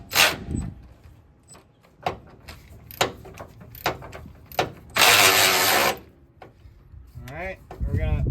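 Someone works a ratchet wrench on the upper control arm bolt of a Ford Ranger, producing a series of close clicking strokes in uneven bursts along with some metallic clatter, while someone talks briefly.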